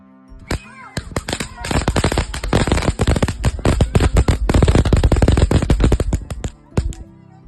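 Diwali firecrackers at a family celebration in the USA burst in a dense, rapid string of loud sharp cracks and pops that crackle continuously for several seconds before tapering off into a few final bangs.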